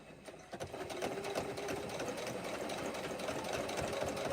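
A sewing machine runs steadily while stitching in the ditch along the seams of a rag quilt, a close, continuous mechanical whir with fast needle chatter and no talking.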